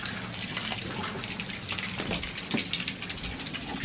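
A steady broadband hiss of water spraying from a garden hose, continuous and fairly close, with a few faint knocks and splashes.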